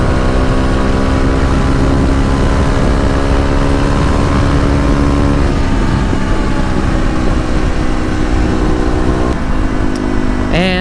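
Kawasaki KLX250 with a 13-tooth sprocket cruising at highway speed near 7,800 RPM, a loud, steady high-revving engine drone with heavy wind rush, continuous and close.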